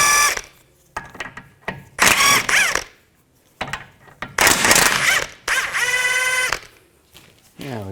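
A power tool with a 17mm socket spins nuts off a bolt on the front lower ball joint of a 2004-10 Toyota Sienna, giving several loud, close, whirring bursts separated by short pauses.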